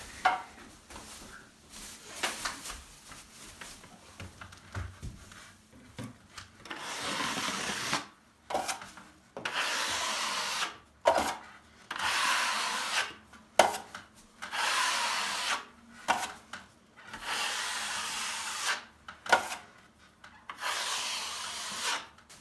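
A drywall knife scrapes a skim coat off a ceiling being cleared of popcorn texture, in repeated close, rough rasping strokes with short pauses between them.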